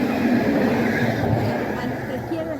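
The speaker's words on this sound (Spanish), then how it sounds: "Ahí justo pasa un tranvía." Tram passing by on a Strasbourg street near a rail bridge, a steady low rumble and rolling hum that stays loud throughout, with faint voices in the background.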